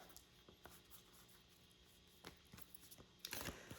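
Tarot cards shuffled by hand: faint papery rustles and soft taps come in short, scattered bursts, ending in a louder, denser flurry near the close, with no talking.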